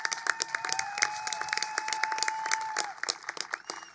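A crowd applauds at a high school graduation ceremony, with dense clapping from many hands and a faint sustained tone underneath. The applause thins toward the end.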